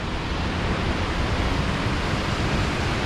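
Lanterman Falls pours beside the old mill in Mill Creek Park, a constant broadband rushing roar of falling water, steady and enveloping with no other sounds.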